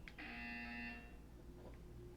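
A single harsh electronic buzzer in the Portal 2 video game sounds for about a second, steady and fairly faint, then cuts off, leaving quiet room tone with a faint tone trace.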